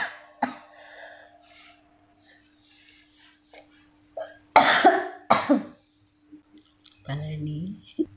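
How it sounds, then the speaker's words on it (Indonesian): A woman coughs sharply a couple of times, close and loud, during an Arabic language lesson, with a faint steady hum and soft voice sounds before and after. "Maaf ya batuk."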